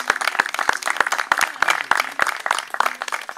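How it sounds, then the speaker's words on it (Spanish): Sparse, distinct hand claps from a small audience at a poetry gathering welcoming a poet, separate sharp claps spaced irregularly over a few seconds, fairly quiet with a faint voice underneath. "Un aplauso para él."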